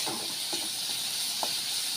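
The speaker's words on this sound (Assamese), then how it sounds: "এনেকৈ অলপ সময় ভাজি ল'ব।" Black cumin, cumin and pepper powder frying in hot oil in an Assamese home kitchen, a steady broadband hiss and sizzle throughout with a few soft scrapes or stirs, close and fairly quiet, no talking.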